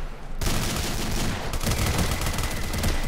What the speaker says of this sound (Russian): Одна стрельба.